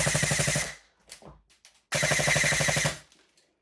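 A foam dart blaster with T238 brushless motors fires in two rapid full-auto bursts of roughly a second each, loud and near, with a rattling whir over dense regular shots and a short mechanical clatter between bursts.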